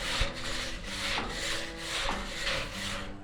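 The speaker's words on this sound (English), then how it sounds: "So just give the grates a little brush with the wire brush." Wire brush scrubbing the grates of a big rotisserie smoker, a steady rasping rub in repeated strokes about every second, close and fairly loud, with no one talking.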